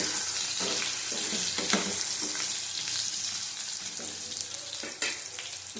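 Young eggplants fry in hot oil in a pan, giving a steady, close, loud sizzle throughout with a few stirring scrapes, and no one speaks.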